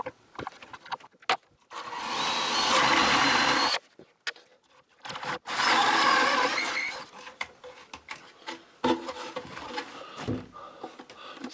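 A drill with 12 mm and 10 mm bits bores holes into wood in two loud, sustained bursts of whirring and grinding, separated by short pauses, clicks and handling noises.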